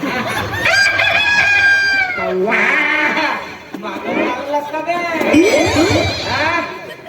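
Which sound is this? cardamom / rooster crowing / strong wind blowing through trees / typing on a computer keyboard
rooster crowing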